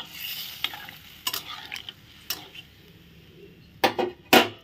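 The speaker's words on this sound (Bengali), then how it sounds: "জলটা দিয়ে এখন নাড়াচাড়া করে ঢাকা দিয়ে দেবো আবার" Papaya curry being stirred in a metal pot after water is added, a soft bubbling simmer under scattered scrapes and clinks of a spoon against the pan, ending in a few louder sharp knocks of utensil on metal.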